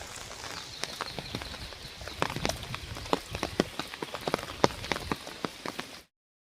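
Rain falls in a village near a market, a soft steady patter broken by scattered louder drips and taps close by, with no voices, before cutting off abruptly.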